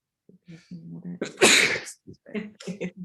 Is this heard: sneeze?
yes